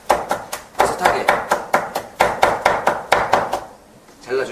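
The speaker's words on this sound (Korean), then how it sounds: "청양고추도 고추와 마찬가지로 어슷하게 잘라주시고요" Knife slicing Cheongyang green chili peppers diagonally on a cutting board, a close run of crisp, evenly spaced chops, with a short pause and a voice near the end.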